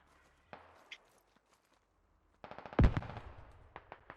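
Gunfire from a squad in a snowy multiplayer military shooter game: a couple of isolated, distant shots, then a quiet stretch before a louder, close burst of rapid automatic fire with scattered follow-up rounds.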